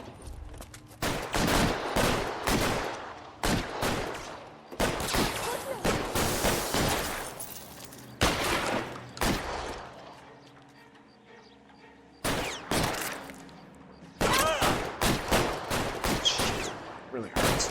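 Gunfire in an LA Noire video game shootout, rapid bursts of loud close shots in several volleys separated by short quieter gaps, with voices talking between them.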